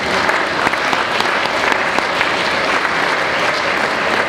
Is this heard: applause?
yes